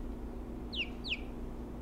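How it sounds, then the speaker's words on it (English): Baby chickens give two quick, high, close peeping chirps against a quiet low background hum. "We're raising some baby chickens."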